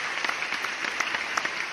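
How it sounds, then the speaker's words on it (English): Scattered clapping forms a short round of applause, fairly faint and thin, with irregular individual claps over a soft steady background. "I should get some applause here, a round of applause"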